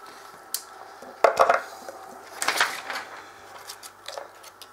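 A Swiss Army knife with a stainless steel blade is drawn across a leather strop in soft, scraping passes, several brief swipes that are close and fairly quiet, with no talk.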